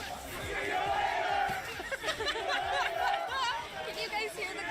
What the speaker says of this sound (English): Can you guys hear the crowd right now?